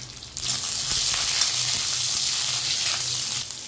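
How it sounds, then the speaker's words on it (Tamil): Whole onions sauté in hot oil for brinjal kulambu, a close, continuous bright sizzle that swells right after they go in and holds steady with no talking. "அப்புறம் வெங்காயம் முழுசாவே இருக்கு, அப்படியே போட்டுக்கலாம். நல்லா வதக்கிக்கிட்டா போதும்."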